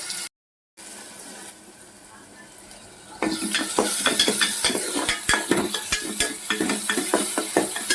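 Onions frying in a pan for a mutton and drumstick masala curry, a soft hiss at first that turns into a louder, steady sizzle broken by frequent sharp scrapes and clinks of a spoon stirring against the pan, with no talking.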